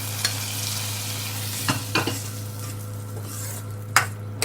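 Fried raisins and cashews being stirred into carrot payasam, a soft steady sizzle with a few sharp spoon taps and scrapes against the pot.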